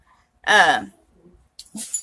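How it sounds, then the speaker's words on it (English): A dog lets out one loud, tonal bark or yelp, followed after a pause by a couple of quieter, higher yips, all close by in an otherwise quiet room. "I don't know what my dogs are barking at."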